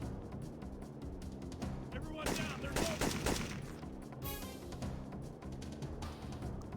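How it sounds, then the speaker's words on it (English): Enemy gunfire in the video game Syphon Filter 2, with dense, rapid shots and bursts that grow heaviest in the middle, set against a continuous game soundscape. "They're just shooting in the dark, I guess"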